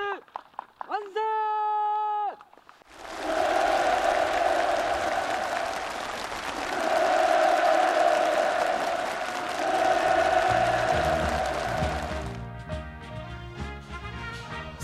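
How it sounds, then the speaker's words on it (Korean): A large crowd breaks into sustained, loud applause for about ten seconds at a North Korean housing handover ceremony, sandwiched between bursts of music. "참가자들의 열렬한 박수 속에 전달됐습니다"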